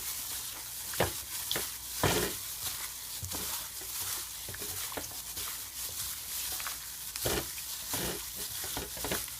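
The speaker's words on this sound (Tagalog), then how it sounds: "So ito, haluin po natin." Spicy chicken ala Maria mixture being stirred in a hot pan, with a steady soft sizzle of frying under repeated scraping strokes of the spoon at an irregular rhythm, close and fairly quiet.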